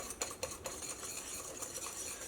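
Sugar and eggs are mixed for cake batter in a bowl, soft scraping and a few light utensil taps against the side, quiet and close with no voices.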